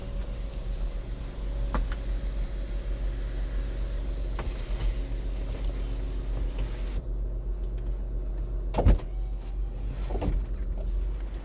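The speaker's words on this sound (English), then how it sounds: "Now I'll show you how the roof works" A Smart Cabrio's electric fabric convertible roof folds with a steady, quiet motor whir over a low hum, broken by a couple of sharp mechanical clunks near the end as the roof reaches its stops.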